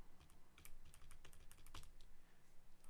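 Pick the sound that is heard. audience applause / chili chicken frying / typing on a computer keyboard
typing on a computer keyboard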